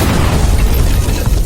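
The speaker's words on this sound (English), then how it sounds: "a massive explosion erupted from the side, tearing through the battlefield in an instant." A massive explosion sound effect roars as a dense, loud low-end rumble that fills the whole moment without letting up.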